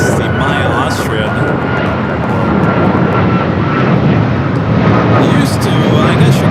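An airliner on takeoff roll from runway 25 at Los Angeles International Airport, a loud steady roar of jet engines that holds strong and continuous throughout, with radio talk faintly over it.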